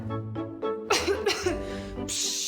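A few harsh, wet coughs in quick succession, close and fairly loud, with a breathy rasp between bursts, in a Ukrainian TV commercial for cough medicine.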